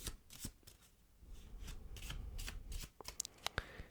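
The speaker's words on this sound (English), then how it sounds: "give this packet another shuffle" A quick riffle of playing cards, a burst of crisp flicking that ends in a few sharp taps as the packet is squared up.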